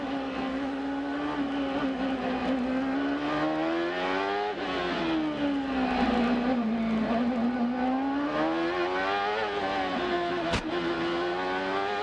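A Reynard-Honda IndyCar at the 1997 Toyota Grand Prix of Long Beach, heard from onboard on the street circuit: a loud, continuous high-revving engine whose pitch climbs and dips through gear changes, with a short sharp click late on.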